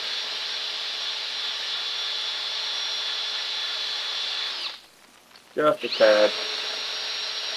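A power tool whines loud and steady while cleaning up an engine mating surface during a 1970 Pontiac GTO Ram Air III engine swap, then cuts off; after a pause a voice speaks briefly and the tool starts up again.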